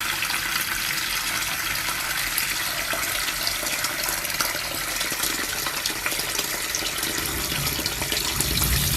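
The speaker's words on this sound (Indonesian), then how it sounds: "air yang mengalir dari keran ini adalah pahala kamu" Water runs steadily from a tap in a constant, loud gushing stream that holds for several seconds without a break; no one speaks over it.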